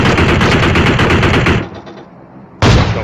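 Automatic gunfire in the shooter game PUBG Mobile, a loud, close, rapid burst of rounds that stops abruptly, a short quiet stretch, then another sudden burst of fire.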